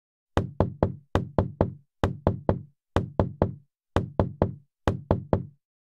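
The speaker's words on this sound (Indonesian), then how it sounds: "Suara ketukan itu masih terdengar. Semakin lama semakin keras dan tidak sabar." Sharp wooden knocks on a door in tight bursts of three, repeated six times with short pauses between, close and loud in an otherwise silent room.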